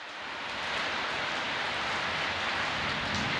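Light rain falls outdoors in a steady, even hiss that builds slightly at first and then holds, close and unbroken, with no voices.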